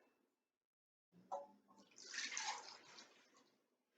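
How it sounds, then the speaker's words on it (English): Hot oil salve pouring into jars, a faint liquid trickle that starts after a brief silence, swells into a soft splashing stream and then tapers away. "pour it into my jars"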